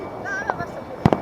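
Firecrackers pop during a Makar Sankranti celebration, two sharp bursts close together near the end over faint background chatter and a thin whistling tone.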